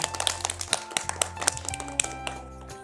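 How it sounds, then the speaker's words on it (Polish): A small group of children and adults claps briefly during a winter indoor guessing game, a quick patter of uneven hand claps at close range, with no talking over it. "brawa dla Gabrysi"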